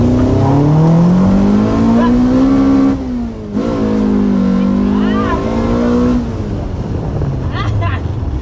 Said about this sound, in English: Try launching a bit softer. On the clutch. The car spinning